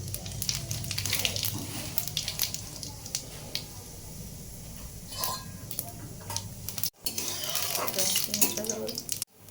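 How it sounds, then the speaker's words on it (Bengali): Cooking oil poured into a hot kadai on a gas stove sizzles and crackles steadily at close range, with a short break before the frying noise resumes. "কড়াটা গরম হয়ে গেছে, এবার তেলটা আমি এতে দিয়ে দেবো"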